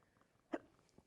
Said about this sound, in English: Might have to end the show because I've got hiccups.